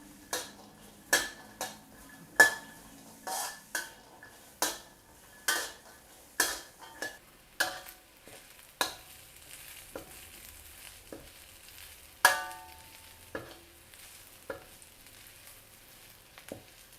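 Spatula stirring snakehead fish as it dry-roasts in a pan with a little oil, a series of sharp scraping clinks at a steady rhythm that slows and thins out toward the end, with a faint sizzle.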